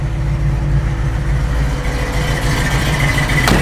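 A 1955 Ford F100 pickup truck idles up close with a steady, deep, throbbing engine rumble that stays even throughout.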